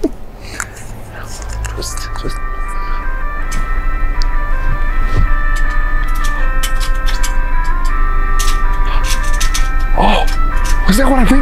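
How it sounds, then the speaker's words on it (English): An ice cream truck jingle plays continuously and fairly loud over steady traffic rumble, with a person talking quietly nearby. "It's the ice cream truck."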